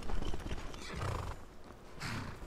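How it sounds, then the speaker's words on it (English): Horses at a priory in the game Unblooded neigh and whinny while hooves clip-clop close by, a brief burst of animal calls and footfalls with no talk. "And they have some horses too."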